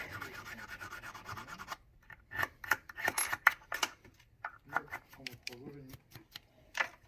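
A freshly duplicated car key is cleaned and filed by hand, giving a steady rasping rub at first and then a string of short scratchy strokes, fairly quiet and close.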